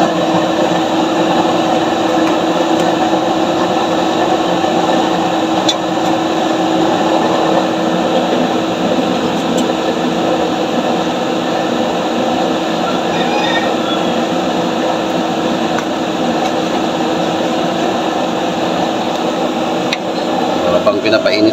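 A heavy-duty used-oil stove burner fires with a steady, loud, continuous roar and rush, holding level throughout without breaks.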